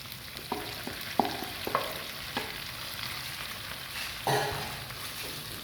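Cooked prawns being stirred into sambal tumis in a pan; a soft, continuous sizzle under a handful of sharp spatula clicks and scrapes against the pan, with a fuller stir near the end and no voices.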